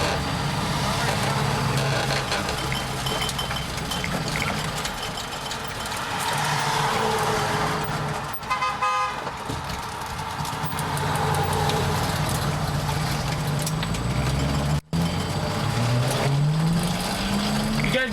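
A car engine hums steadily throughout a quick U-turn on a road, with people talking over it; near the end the engine note climbs as the car pulls away.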